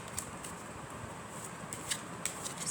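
Soft papery riffling of tarot cards being shuffled, with a few sharp snaps near the end, heard close against a quiet room hiss.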